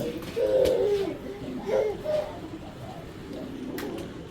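A pair of top-quality racing pigeons coo nearby in two or three throaty, rolling bursts over a low background hiss.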